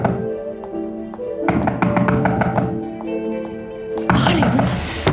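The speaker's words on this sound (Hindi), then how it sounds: "दरवाजा बज रहा है, मैं जाकर देखती हूँ।" A door being knocked on indoors: a string of light, sharp taps in irregular bursts over a sustained musical background.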